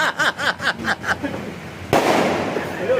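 Firecrackers going off outdoors, a sharp loud burst and crackle near the end after a second of rhythmic noise, with people talking nearby.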